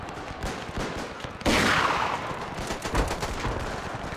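A rifle volley cracks out at once in a World War One video game battle, a dense burst of gunfire over constant background noise, followed by scattered further shots.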